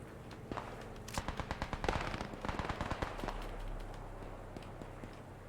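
Rapid volleys of G43 rifle gunfire in a video game battle, sharp cracks stacking into dense bursts before thinning to scattered shots over a low rumble.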